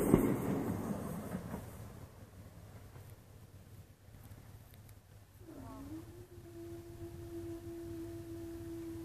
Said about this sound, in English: Oh, wait, train's coming.